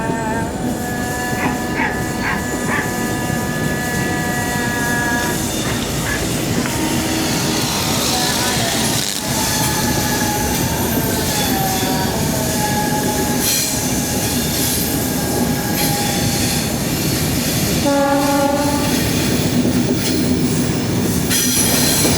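A Rajdhani Express train runs near Kollam in Kerala, with steady loud rumble and rail noise throughout, flange squeal and a long tonal horn-like whine rising in bursts, heard from on board without talk.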